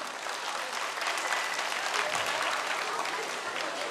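Loud, dense crowd applause at an outdoor Victory Day festival event in Erfelek, Sinop, steady clapping from many hands sustained for a few seconds with no talk over it.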